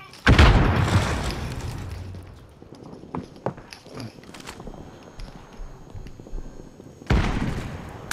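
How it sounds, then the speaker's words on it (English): Stun grenade going off in Call of Duty, two loud booming bursts, one near the start and another near the end, with scattered footsteps and small clatters between them. "Stun bomb out!"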